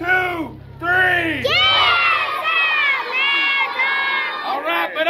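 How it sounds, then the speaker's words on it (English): A group of children at a Western-town show yell a chant together in unison, loud and close, with a crowd cheer swelling around it and shouting carrying on for several seconds. "All right, kids, on the count of three, we're going to yell"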